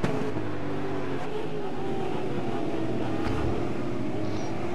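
Touring race cars in a racing video game give a continuous dense engine drone as several cars run close together, a steady roar with no distinct pass-bys.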